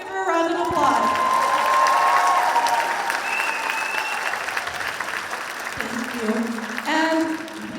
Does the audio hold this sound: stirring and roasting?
no